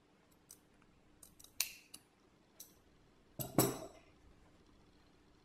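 Scissors snip the last bit of thread or fabric off the end of a sewn hat, a few faint, sharp metallic clicks spread out, with one louder cut near the end.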